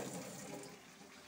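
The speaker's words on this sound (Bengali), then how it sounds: "জল দিয়ে দিচ্ছি।" Water poured into a cooking pot while preparing a Bengali potol and shrimp curry; a steady, gushing splash at close range that holds for just over a second with no speech.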